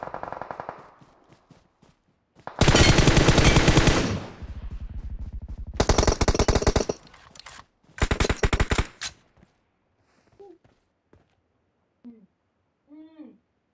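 Bursts of automatic rifle fire in PUBG Mobile, a long rapid volley followed by two shorter loud bursts, then quieter scattered shots, with brief voices in between.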